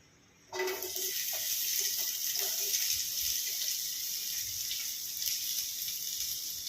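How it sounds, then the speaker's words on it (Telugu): Chopped onions drop into hot sunflower oil and start a sudden, steady frying hiss that stays loud and even, with faint clinks early on. "ఆయిల్ హీట్ ఎక్కినాక తరిగి పెట్టుకున్న ఆనియన్స్ వేసుకుందాం."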